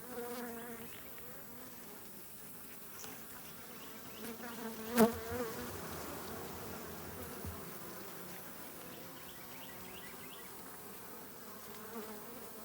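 Africanized honeybees at Langstroth hives make a steady, close buzzing that carries on throughout, with a single sharp knock or clatter partway through.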